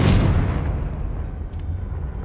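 Fire-blast explosion spell in Hogwarts Legacy goes off with a loud, close boom at the start, its rumbling tail decaying over the next two seconds.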